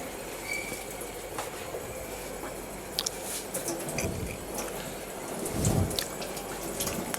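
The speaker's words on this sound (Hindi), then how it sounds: "पानी का फ़्लो हमने खोल दिया" Water runs through an RO water purifier as a faint, steady trickling flow, with scattered small clicks and drips and a brief low rumble near the end. The sound is quiet and close, with no talking.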